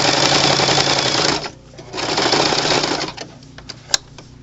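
A sewing machine runs a straight stitch around a fabric toy train, loud close bursts of rapid mechanical rattling broken by short pauses at the corners, then a few sparse clicks and one sharp tap.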